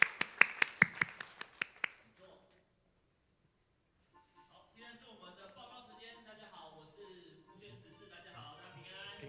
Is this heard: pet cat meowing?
no